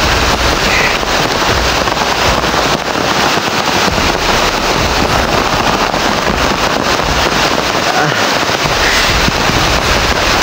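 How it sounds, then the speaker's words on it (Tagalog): Heavy rain pounding down outdoors in the Philippines, a loud, constant dense patter with gusty rumble, heard up close from start to finish. "Malakas na ulan dito, bro."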